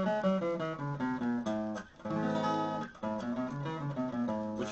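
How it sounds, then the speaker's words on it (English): A melody in the Aeolian mode, the minor scale built on the sixth step, plays alone in sustained harmonic tones with a brief dip near the middle before the line resumes. "the sixth step of the scale, which is the Aeolian mode, which sounds like this."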